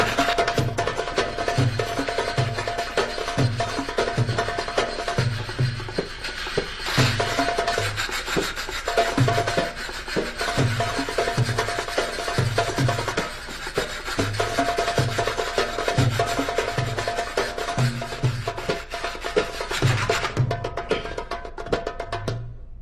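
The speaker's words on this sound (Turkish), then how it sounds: "Bir kızım kesmez bu zincire. Kesmez tabi. Tahta desteresidir bu." A hand wood saw scrapes back and forth across a metal chain in a Turkish comedy scene, making regular rasping strokes in a steady rhythm that continue for the whole stretch, close and fairly loud.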